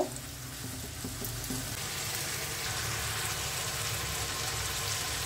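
Masala for a no-onion, no-garlic long bean and tomato sabji fries in a pan with a splash of water, giving a steady, soft, even sizzle and bubbling hiss close by, with no voices.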